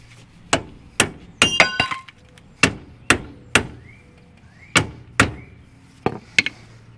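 Metal hammer blows strike a car suspension arm during a strut install on a 1999 Kia Sportage EX, about a dozen sharp ringing clanks in uneven bursts, close and loud, with no talk.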